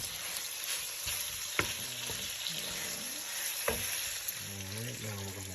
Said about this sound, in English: right now we're going to add our peppers and saute them with the bacon